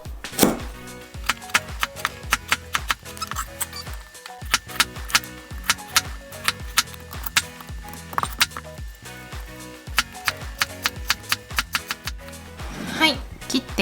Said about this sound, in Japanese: はい、切って入れました。